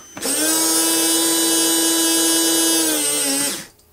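A smoke pump in a 1/3 scale Clipped Wing Taylorcraft model airplane whirs at high speed with a steady, tonal, drill-like whine for about three seconds at full throttle, then spins down and stops.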